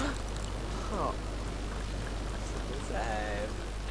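Rain falls steadily in The Sims 2, a constant soft hiss with no breaks, while a faint voice talks over it.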